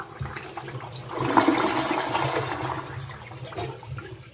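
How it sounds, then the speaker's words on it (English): A toilet with a newly installed Samodra Button Bidet Pro flushes close by, a rushing swirl of water that swells after the first second and keeps draining steadily, with no talking. "We're going to go ahead and flush it."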